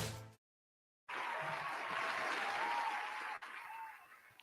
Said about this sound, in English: I think I need more enthusiastic cheering.